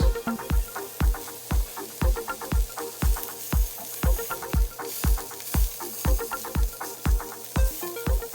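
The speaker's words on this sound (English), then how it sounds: "let them sizzle right here on a nice little pan for a couple of minutes" Steady sizzling of hot dogs frying in a pan, with a regular series of clicks or taps repeating throughout.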